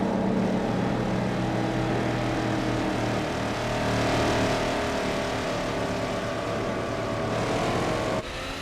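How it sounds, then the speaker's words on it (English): A loud car engine in Gran Turismo 4 roars continuously, its pitch rising and falling as it revs, then cuts off abruptly near the end. "Oh, listen to that engine."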